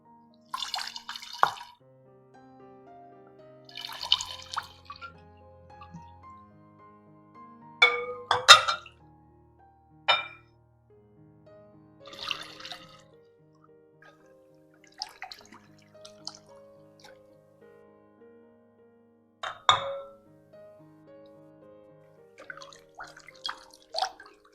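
Homemade red wine is poured through a funnel into a container in a few separate bursts of splashing and trickling liquid with small clinks between them, close and fairly quiet.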